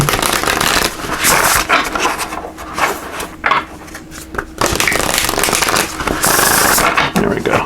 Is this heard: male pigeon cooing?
no